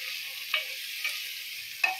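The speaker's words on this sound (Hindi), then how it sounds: "अब इन सबको एक से दो मिनट भून लेते हैं।" Spices with Kashmiri red chili fry for chicken curry, giving a steady close sizzle in oil, with three brief scraping stirs of a spoon in the pan.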